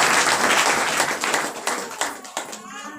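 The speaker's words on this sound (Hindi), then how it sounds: "ताली बजा कर प्रभु को धन्यवाद करेंगे।" A church congregation applauds together in thanks, dense clapping that stays steady, then thins into scattered claps as it fades out.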